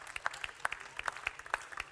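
An audience on a French innovation event set applauds a guest, Patrice Michaud, director of Conceptogramme, with brief, fairly sparse clapping from a modest crowd where individual claps stand out.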